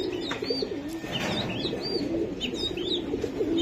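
Racing pigeons coo again and again at close range, their low rolling calls mixed with thin chirps from other birds, with no talking.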